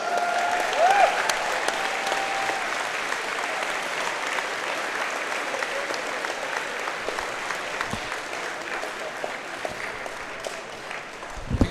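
Audience at the World Wallball men's singles final applauding the two finalists, a loud sustained wash of many hands clapping that holds steady for several seconds, with a few whistles and scattered voices mixed in.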